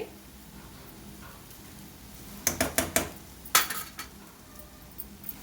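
Quiet at first, then a spoon rattles and clinks sharply in a pan as street-style egg fried rice is mixed with masala, vinegar and red chilli paste, in a short cluster of close metallic knocks.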